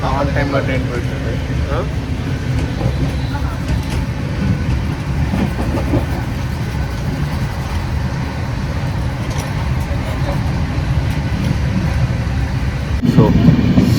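A long-distance passenger train from Chennai to Nizamuddin, nearing Agra, rolls along with a loud, continuous rumble and rhythmic rail clatter from inside the carriage, while a voice speaks over the noise.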